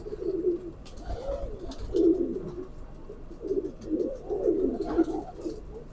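Pigeons, a male and a female, coo in low, throaty rolling phrases that repeat in steady bursts, close and clear with no talking over them.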